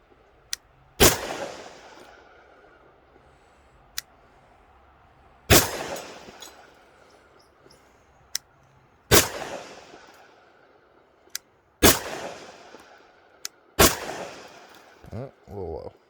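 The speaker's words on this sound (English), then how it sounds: "See if I can do better target shooting on this one." A custom Sig P320 pistol chambered in .357 SIG fires five sharp, loud single shots spaced a few seconds apart during target shooting outdoors, each crack followed by a short decaying tail.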